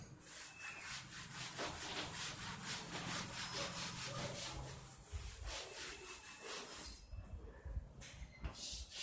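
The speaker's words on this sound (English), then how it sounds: "now next I am going to compress that piston" A piston pushed down into a cylinder during an isothermal compression demonstration gives a steady, fairly loud rubbing and scraping friction that runs the whole time and thins into rougher bursts near the end.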